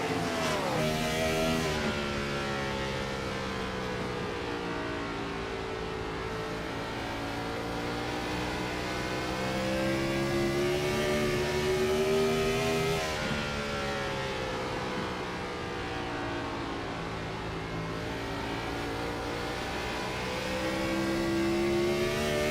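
Race car engines roar continuously from an onboard camera during a close battle on an oval racing circuit in the Lucas Oil 150, pitch rising and falling with each lap, loud and steady throughout.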